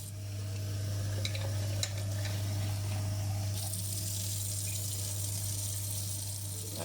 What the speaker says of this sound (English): Here we are, just running the water alongside.